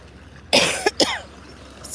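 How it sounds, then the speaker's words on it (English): A couple of sharp coughs close by, the first harsher, followed by a brief third burst, against quiet outdoor background. "Excuse me, coughing."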